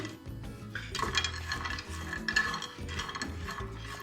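Almonds and chickpeas dry roast in a pan, with soft scraping and rattling from stirring, clinks of a utensil against metal, and a low, continuous background hum.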